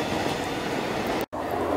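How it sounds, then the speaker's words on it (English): A Lilydale service train passes East Richmond station in Melbourne, a steady, close roar of rolling wheels with a brief dropout near the end. "Lilydale service passing!"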